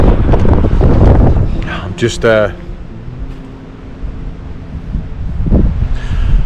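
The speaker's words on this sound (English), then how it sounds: "I'm just hiding from the wind for a minute." Strong wind buffets a touring cyclist's microphone on an ultra-distance ride along the Transatlantic Way, a loud low rumble that swells and eases throughout, with a brief voice partway through.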